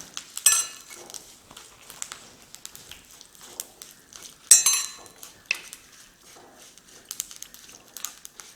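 Tender jackfruit pieces are stirred in a pan for a pickle, with curry leaves in the mix, producing irregular metal-spoon scrapes and clinks, some sharp and loud, over near silence, with no talk.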